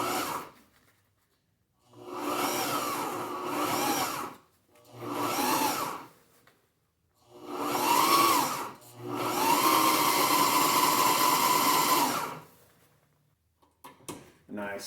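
A sewing machine stitches fabric for a Harley-Davidson XR1200 motorcycle seat cover, whirring in several separate bursts of a few seconds each, with one longer run, and brief pauses between them.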